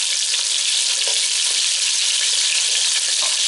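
Chicken thighs frying in hot oil in a pan, giving a loud, dense, continuous sizzle that holds steady throughout with no talk.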